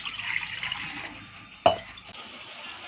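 Water poured into a pot to start sugar syrup for boondi sweets, a brief splash and clink near the middle against a quiet kitchen background.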